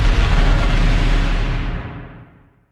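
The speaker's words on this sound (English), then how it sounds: "copying the explosion sample" A designed explosion built in Phase Plant with Snap Heap: a dense, loud, full-range blast that sustains for about two seconds and then fades smoothly into a darkening tail, with no voices.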